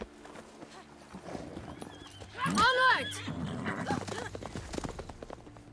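Horse hooves clip-clop steadily in The Witcher 3: Blood and Wine, and a loud neigh rises midway. A voice calls out over the rhythmic hoofbeats.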